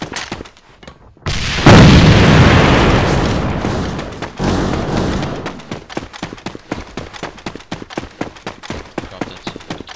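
A loud grenade blast in the shooter game AVA bursts out about a second and a half in, booms and rumbles for a couple of seconds, then gives way to rapid clattering footsteps and gunfire-like clicks.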